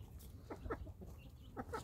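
Hens and young roosters cluck in short, scattered bursts while an older hen feeds on oats, with no talk.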